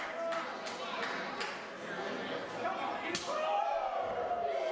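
Hard open-hand chops to the chest traded in a professional wrestling match, a series of sharp loud slaps ringing out over steady crowd noise and a commentator talking.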